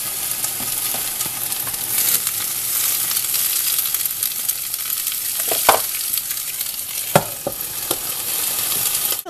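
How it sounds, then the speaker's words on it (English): Cabbage sizzles steadily in hot oil, a dense continuous crackle with occasional sharper pops and light scraping, with no one speaking. "there's hot oil here, and also the cabbage does a little bit of water on it, that's why the sizzling noise"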